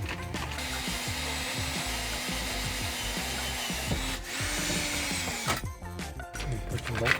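A power drill bores holes for mounting brackets in the bed of a Chevy C20 tool truck, whining steadily with brief dips and a change of pitch near the end.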